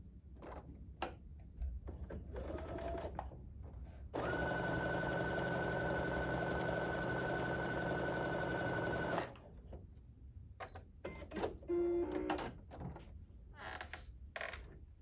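A sewing machine stitches quilt pieces in one steady whirring run of about five seconds, fairly close, framed by quiet handling and fabric rustles before and after.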